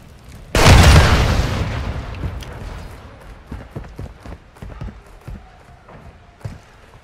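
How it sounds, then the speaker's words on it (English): A detonated charge explodes in a Search and Destroy ranked video game match with a loud sudden boom that rolls off into a long decaying rumble, followed by scattered footsteps and light clatter. "set the charge on the target and detonate it"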